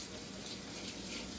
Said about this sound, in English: Let me give a quick wash to my hands